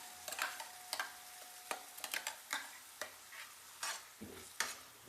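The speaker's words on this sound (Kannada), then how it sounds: "ಇದು ತುಪ್ಪದಲ್ಲಿ 1-2 ನಿಮಿಷ ಚೆನ್ನಾಗಿ ಫ್ರೈ ಮಾಡಬೇಕು." Spinach puree frying in ghee in a pan while a spoon stirs it, with soft sizzling under irregular scrapes and knocks of the spoon, fairly faint and close, with no voices.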